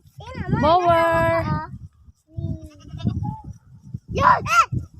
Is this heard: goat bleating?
yes